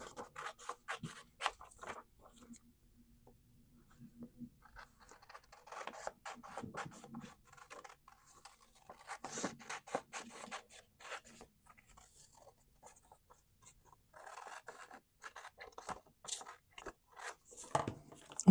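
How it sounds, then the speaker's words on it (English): A pair of scissors cuts out printed botanical paper ephemera for a junk journal, with close, crisp snipping and crunching strokes coming in short bursts separated by brief pauses. "You can cut them out like this with a pair of scissors."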